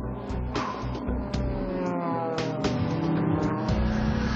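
A pack of 55 race cars, including an F40, rolling behind the pace car at the start of a race at Dijon, France, with a steady roar of many engines blending together and sharp revving bursts rising above the drone.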